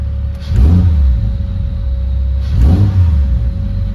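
A Ford Barra engine fitted with a bigger turbo in a Nissan Patrol, throttle stabbed twice, each time giving a deep rising rev that falls back quickly to a steady loud idle rumble, close up with no talk.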